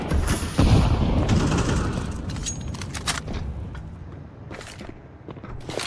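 Grenade blasts and bursts of gunfire in a shooter video game, a heavy boom at the start rolling into rapid shots and scattered cracks that thin out toward the end, with no talk.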